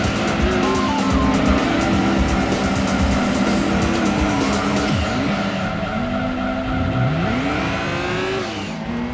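Race cars roar through a Gran Turismo 2 road race on PlayStation, engines droning loud and steady with shifting revs and repeated tire squeals and skids, continuous throughout with no talking.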